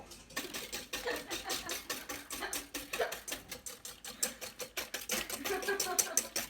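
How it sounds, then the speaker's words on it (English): Ingredients for kartoffelsalat are whisked in a bowl, making rapid, continuous rhythmic clicking and tapping at a steady close-up pace with no pause. "And then we'll whisk"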